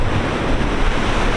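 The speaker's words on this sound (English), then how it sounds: "watch the waves crash into the rocks" Ocean surf crashing continuously against coastal rocks at Point Lobos, California, a loud, broad roar of churning water with gusty wind rumble, no voices.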